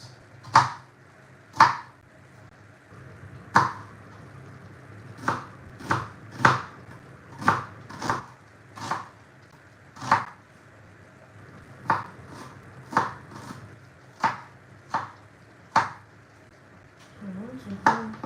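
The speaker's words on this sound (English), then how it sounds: "I want to cut these onions." A knife chops red onions on a cutting board in a kitchen, with about twenty sharp, close knocks at an uneven but steady pace over a low background hum.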